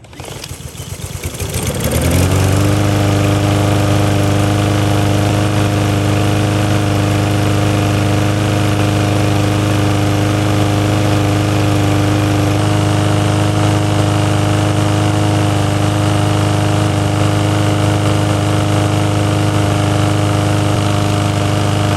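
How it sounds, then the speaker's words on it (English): A used lawn mower engine catches after a couple of seconds of cranking, then settles into a loud, steady, even-pitched running drone that holds for about twenty seconds with no one talking. "let's take this thing back outside and start it up"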